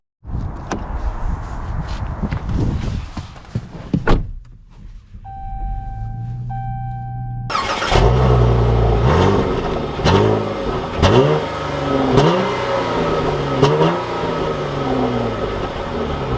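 A 2021 Dodge Charger SXT Blacktop AWD starts up after a door thunk and cabin chimes, then its engine idles and pulls away, revving through several rising and falling gear changes, close and steady from inside the car.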